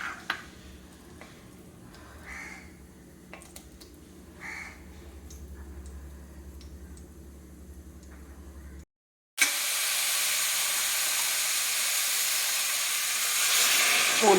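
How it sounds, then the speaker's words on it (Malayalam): Fenugreek seeds fry in three tablespoons of oil for a village-style pickle. Faint clicks and ticks come first, then after a brief silence a loud, steady hissing sizzle continues to the end. "അതിൽ നമ്മൾ ഉലുവ ഇട്ട് കാച്ചും"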